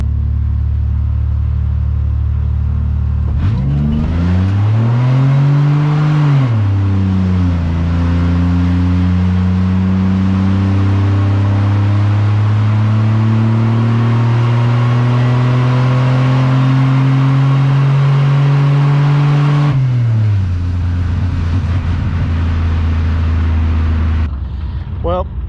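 A Buick Regal GS launches down a drag strip, its engine revving up, shifting, then holding a loud, steady roar before dropping off near the end.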